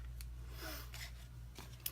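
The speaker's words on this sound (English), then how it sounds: "we're going to take our pair of scissors" Scissors cutting paper card to make a tab for a box card, producing a few short, crisp snips at a quiet, close level with brief pauses between cuts.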